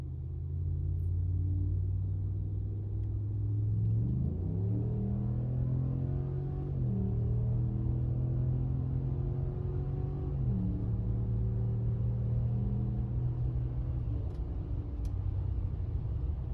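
A Ram Rebel pickup's Hemi V8 rumbles deep and loud while driving down an off-ramp, its revs climbing and dropping through several shifts in a continuous throaty drone.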